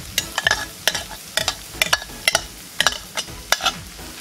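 Onions and carrots fry in a kazan over a campfire, with a steady sizzle broken by repeated sharp scraping stirs in an uneven rhythm, close and fairly loud.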